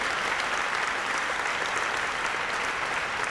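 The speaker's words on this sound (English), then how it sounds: "Another big round of applause for Victoria." Audience applause at a university Founders Day address, a steady, moderately distant wash of many hands clapping honoring a newly appointed biochemistry professor.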